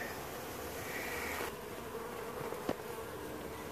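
Honeybees from a hive removed from a trailer in Auburndale, Florida, a dense continuous buzzing swarm, close and steady, with a brief sharp knock near the end.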